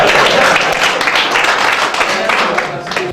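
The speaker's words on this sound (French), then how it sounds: "Vous pouvez applaudir la commandante." An audience at a working meeting in Waterloo applauds the commander, a close, loud burst of clapping that tapers gradually over a few seconds.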